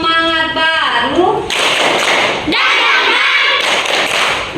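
Group rhythmic clapping chant in a school classroom session, several bursts of claps from many people in a patterned rhythm, with a teacher's voice and children's voices speaking before the clapping starts.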